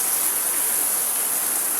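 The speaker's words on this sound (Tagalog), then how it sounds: "Grabe ulan" Heavy rain pours down in a dense, continuous hiss, loud and unbroken, with no voices over it.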